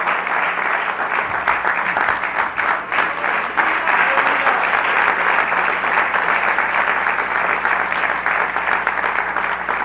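A church congregation applauding loudly, a dense, sustained clapping from many hands filling the whole stretch at even volume, with no voices standing out.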